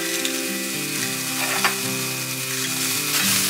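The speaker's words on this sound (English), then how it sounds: "Once your pan is hot, add in your sliced onions, mince your garlic." Sliced onions and minced garlic sizzle loudly in a hot pan, a dense, continuous crackling fry close up with no talking.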